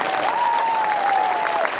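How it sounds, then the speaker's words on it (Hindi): Crowd applause at a Tipra Motha political rally on the Astabal playground in Agartala, steady and dense for the whole stretch, with a faint sustained tone running through it. "ताली दीजिए इनको।"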